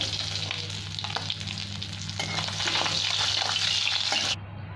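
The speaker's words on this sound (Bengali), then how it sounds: "তেলের মধ্যেই একটু 5 ফোঁড়ন দিয়ে দিলাম। আর এখানে আলু আর গাঁটকপি কেটে রেখেছি, এটাও দিয়ে দেবো সাথে।" Panch phoron and kohlrabi with potato frying in hot oil, making a loud, continuous close sizzle with faint stirring that cuts off abruptly near the end.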